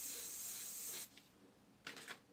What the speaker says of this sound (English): you got to be careful spraying off the edge